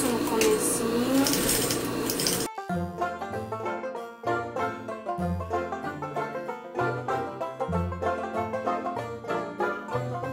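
Sewing machine stitching a waistband, rapid rhythmic mechanical clatter in short bursts with brief pauses, close and clear after an opening stretch of louder background noise.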